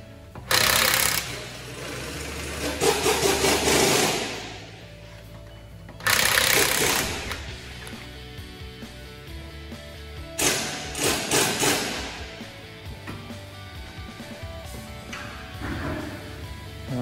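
Impact gun rattling loose 17mm wheel bolts on an Audi A4 Avant on a two-post ramp, with three or four loud hammering bursts of a few seconds each and quieter gaps between them.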